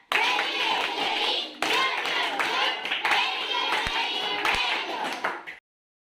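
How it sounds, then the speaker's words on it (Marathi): A classroom group performs a rhythmic "very good" clapping pattern, dense, loud clapping in repeated bursts with a brief pause midway, ending abruptly. "आता आपल्याला व्हेरी गुड क्लॅप पाहायचा आहे"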